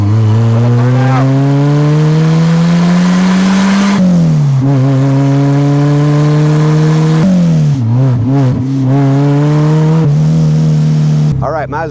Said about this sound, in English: This thing has a better blow-off sound than any of our race cars do.